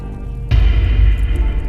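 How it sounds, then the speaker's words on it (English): An old basement boiler explodes in an animated film, a sudden deep boom that breaks a quiet moment and then rumbles on heavily until the end. "There was an explosion."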